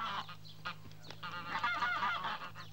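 Wild geese honk in a large flock from an animated series, a dense overlapping chatter of calls running steadily with a constant low hum beneath and no talking.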